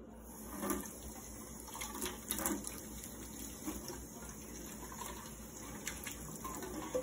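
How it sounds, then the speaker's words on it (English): A steady stream of running water splashes and patters continuously, close by and moderately loud, with no talking. "we're gonna rinse it with the clean water."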